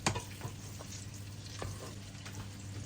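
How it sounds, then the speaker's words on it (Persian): A spoon mashes drained, cooked food in a pot before butter and milk go in, with soft, faint, irregular squishing scrapes and light clinks against the pan. No voice is heard. "من به این شکل با این قاشق یه ذره لهش میکنم"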